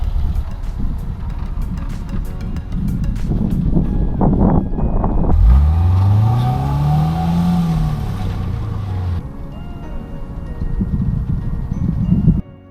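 A car engine revs hard and climbs in pitch as it accelerates up a sand dune on the Oregon Coast, loud and close, with heavy wind buffeting the microphone before the engine eases off.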